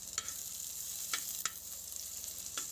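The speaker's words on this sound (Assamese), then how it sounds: "ভালদৰে পিঁয়াজখিনি ৰঙা পৰাকৈ ভাজিম।" Chopped onions frying in a small amount of mustard oil in a pan, a steady close sizzle with a few sharp clicks of stirring.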